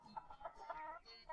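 A chicken clucks in a quick, faint series of short calls, soft and somewhat distant, with no talk over it.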